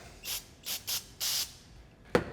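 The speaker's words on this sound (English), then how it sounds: "I'm gonna spray out each passageway with some carb cleaner" Carb cleaner sprayed from an aerosol can into the passageways of a chopper motorcycle carburetor during a rebuild, four short hissing bursts followed by a sharp click, close and fairly quiet.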